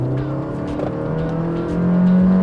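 A Honda WR-V's engine drones loudly and steadily as the car accelerates, its pitch rising slightly and its volume swelling toward the end.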